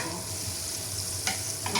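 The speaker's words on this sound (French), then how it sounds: "on y met les échalotes. On fait revenir." Shallots frying in melted butter in a pan for a cream of cauliflower and mushroom soup, giving a steady close sizzle with a couple of brief stirring scrapes near the end.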